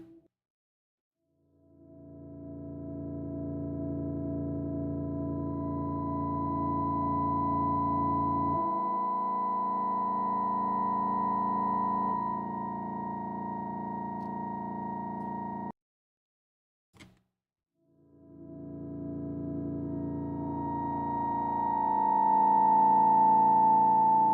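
Sustained electronic tones wash through a long, reverberant convolution reverb tail, shifting partway through, breaking off into silence briefly, then swelling back.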